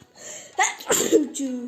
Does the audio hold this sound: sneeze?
yes